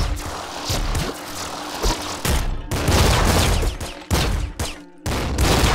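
A super flat cannon fires in the Nuclear Throne video game, dense rapid bursts of loud explosive blasts and crackling impacts filling the whole stretch with only brief gaps.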